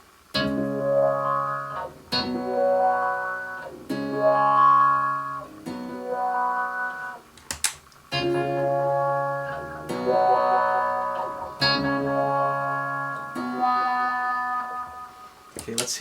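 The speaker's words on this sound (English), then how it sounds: "Now let's reroute the order of the wah and the delay." Electric guitar played through a Decibel Eleven Pedal Palette with the pedal order swapped so the delay runs before the wah, giving sustained chordal phrases with sweeping filtered tones and repeating echoes, loud and alone with no talking.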